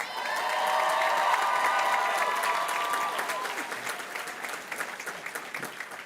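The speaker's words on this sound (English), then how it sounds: "I ask the class of 2024 to give them a big round of applause" Graduating class of 2024 applauding at a university commencement ceremony, a large crowd clapping loudly with some cheers and whoops early, then thinning into looser, individual claps.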